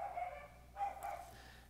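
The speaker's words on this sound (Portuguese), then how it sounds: "Vocês estão ouvindo esse cachorro?" Two distant dog barks, spaced apart, faint and muffled against a steady low hum.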